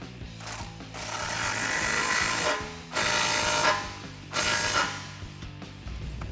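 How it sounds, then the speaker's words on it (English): A ratchet with a 15mm deep socket tightens the exhaust clamp on a Jeep Wrangler JL Flowmaster axle-back, giving three long runs of dense, close mechanical clicking separated by short pauses. "what we're going to do is tighten that up with a 15mm deep socket"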